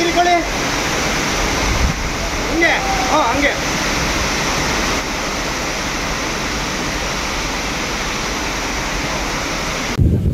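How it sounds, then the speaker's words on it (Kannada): Agaya Gangai (Akasha Gange) waterfall in monsoon, a broad continuous roar of falling water, loud and steady, with brief voices talking in the first few seconds. "ಸೊ ಈ ಫಾಲ್ಸ್ ನೇಮು ಅಗಯ ಗಂಗೈ."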